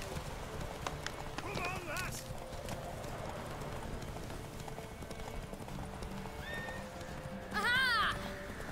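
Rhythmic hoofbeats of a galloping horse in a horse race in The Witcher 3, under music and chatter, with a short whinny near the end.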